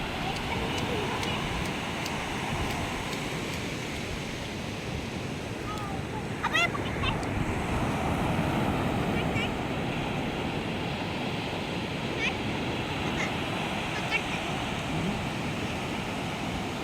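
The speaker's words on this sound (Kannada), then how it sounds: "ಎಷ್ಟು ಜೋರು ಸೌಂಡ್ ಬರುತ್ತೆ ಅಂತ. ನೀರಿನ ಶಬ್ದನೇ ಹಾಗೆ ಫ್ರೆಂಡ್." Sea waves break on a beach in Goa with a steady, loud roaring wash and wind rumble throughout, while people talk over the surf.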